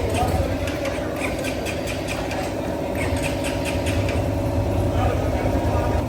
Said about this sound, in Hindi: ये पहली दफ़ा स्टार्ट हो रहा है हमारा बाइक।